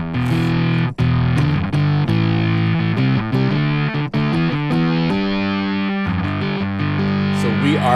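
Heavily distorted electronic music with sustained, saturated synth tones and steady dense texture through the clip, a distortion effect shaping the sound.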